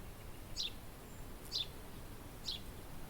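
A sparrow in the Moroccan wild gives three loud, sharp chirps spaced about a second apart, standing out against a low, steady background rumble.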